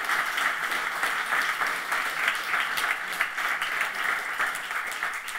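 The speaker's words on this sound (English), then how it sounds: "That needs a round of applause" A conference audience at a Go programming event gives a round of applause after a live code demo, steady dense clapping throughout with no pauses and no speech over it.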